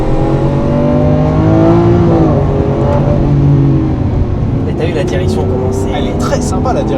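A Lamborghini Aventador SV accelerating, a loud sustained engine roar with rising pitch and a brief shift, heard from inside the car as people talk over it.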